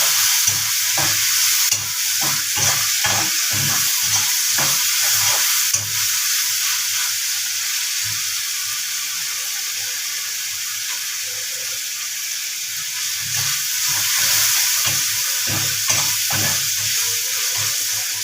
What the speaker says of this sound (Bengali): পেঁয়াজগুলি হালকা ভাজা হলেই